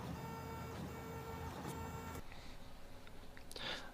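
A Xeon 16 3D printer, built almost entirely from parts printed on another 3D printer, runs with a steady mechanical whir and motor tones that shift midway, with a few brief high squeaks near the end.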